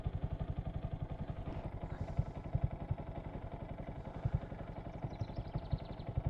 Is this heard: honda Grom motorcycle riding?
yes